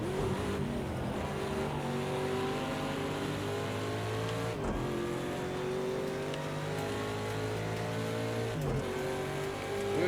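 LMP2 prototype race cars at Watkins Glen in an IMSA six-hour race give a sustained high-revving engine whine with shifting pitch and brief gear-change dips, heard from inside a racing Ford Mustang GTD.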